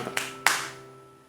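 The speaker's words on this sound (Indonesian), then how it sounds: "Beri tepuk tangan dulu" A few quick hand claps, two light ones followed by a louder clap that rings out briefly over a steady background tone.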